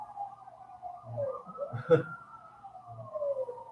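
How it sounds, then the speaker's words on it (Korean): A siren wails outside a billiard hall, faint and distant, its rising and falling tone drifting under quiet room noise. "갑자기 웬 사이렌 소리가."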